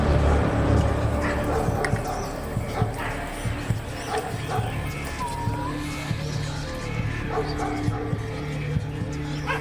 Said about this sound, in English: The dogs had cornered a pig.